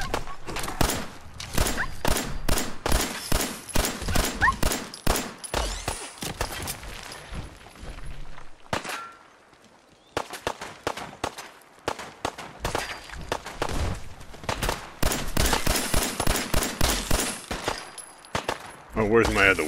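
Rapid bursts of automatic gunfire from the video game Fallout 4, loud and close, come in dense volleys with a short lull in the middle before the shooting resumes; a voice talks at times over the firing.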